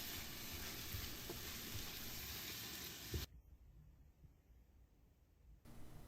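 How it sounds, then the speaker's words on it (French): Aubergine confit cooking gently over low heat in a pan, a steady soft sizzle and hiss close by for about three seconds, then dropping to a faint quiet simmer before the sizzle briefly returns. "Puis cuire une dernière fois à feu doux pendant environ 5 minutes"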